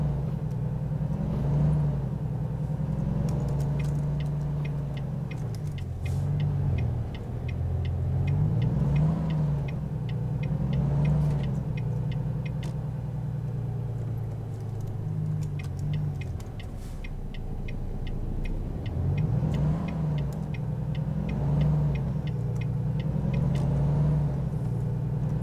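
A car cruising in Kansas leaves the road to refuel: a steady, close engine and road rumble runs continuously throughout, with gentle swells in pitch as the car slows and shifts, and no voices.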